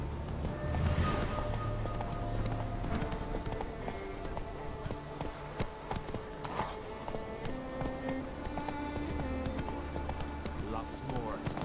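The horse Roach galloping in The Witcher 3, steady rapid hoofbeats clip-clopping under a music score, with a voice speaking over them.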